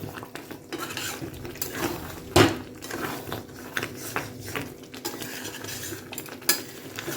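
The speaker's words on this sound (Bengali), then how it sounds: "আর একটু গ্রেভিটাকে নাড়িয়ে দেব যাতে গ্রেভিটা একটু চিকেনের মধ্যে ইয়ে হয়" A spoon stirs chilli chicken gravy with tomato, capsicum and onion in a pan, making repeated scraping clinks against the metal over a soft sizzle, with one sharper knock partway through.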